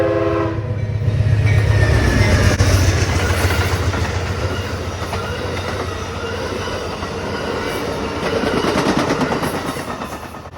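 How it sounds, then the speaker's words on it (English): A train rolls through the double-gated Waddell Road crossing in the Upstate, its horn sounding loudly at the start before a continuous heavy rumble and clatter of passing railcars fills the rest. "when those double gates go down, it's got to be train time."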